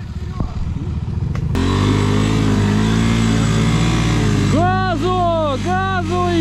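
A Suzuki quad bike's engine on an enduro ride roars loudly up close, holding a steady drone before climbing through several rising and falling revs near the end, with a voice briefly heard at the start.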